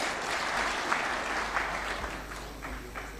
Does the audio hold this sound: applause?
yes